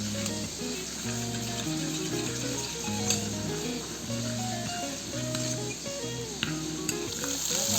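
Spices and green chilli paste fry and are stirred in a pan while cooking a fish curry, giving a continuous hiss and sizzle under steady background music.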